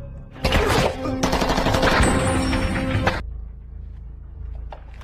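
Loud bursts of rapid automatic gunfire from an action film fill about three seconds, a second volley following a short gap, then fade into a low rumbling background with a faint later shot.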